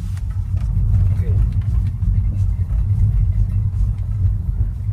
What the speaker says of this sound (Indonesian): Agak berisik ya mobilnya.